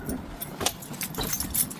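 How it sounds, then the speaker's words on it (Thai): Chain of a new Fiido D3 Pro electric bicycle rattling as it is first tried out, a close, light metallic jangle in repeated uneven bursts over faint background noise. "อ๋อโซ่มันดังครับ"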